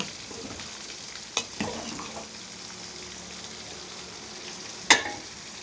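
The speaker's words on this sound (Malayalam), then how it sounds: "ചിക്കൻ വീണ്ടും പാട്ടിലോട്ട് പൊരിക്കാനിട്ട് കേട്ടോ" Chicken pieces fry in a pan with a steady low sizzle throughout, broken by a few sharp clinks and scrapes of stirring, heard close and without talk.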